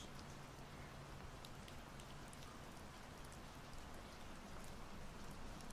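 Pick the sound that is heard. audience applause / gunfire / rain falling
rain falling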